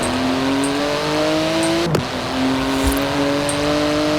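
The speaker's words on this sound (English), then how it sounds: "an excellent car, making an excellent noise" A car engine in the racing game Forza Horizon 4 drones loudly and steadily, its pitch climbing and then dropping through a gear change about halfway before rising again. No one speaks.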